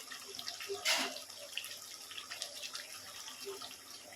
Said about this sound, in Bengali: দিয়ে অল্প করে গরম জল দিয়ে দেবো